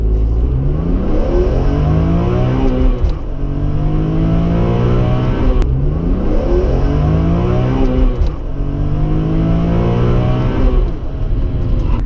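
A BMW M3 with an SMG gearbox launches hard and accelerates to 60 mph, its engine roaring loud and close, rising in pitch through each gear with sharp shift breaks roughly every two and a half seconds.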